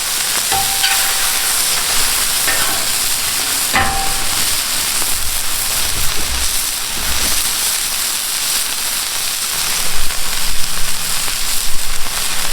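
Steak burger patties sizzle loudly on a Camp Chef flat top griddle, a dense steady hiss broken by a few scrapes and clanks of a spatula during the flip, close up and without talk.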